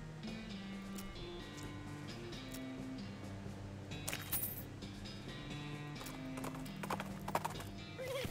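Hooves clip-clop steadily in the background while a horse gives a couple of whinnies in the video game West of Loathing, set against a low ambient hum.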